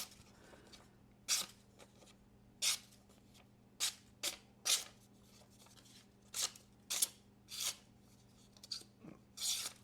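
A Kubey Royal framelock knife with an M390 steel blade slices through paper in a series of short, crisp rasping cuts, about a dozen irregular strokes close by against a faint steady hum.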